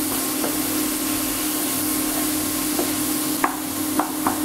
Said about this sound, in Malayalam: ഒരു 3 ടീസ്പൂണോളം മുളക് പൊടിയും കൂടി ആഡ് ചെയ്യും. നന്നായിട്ട് വഴന്നു വരണം.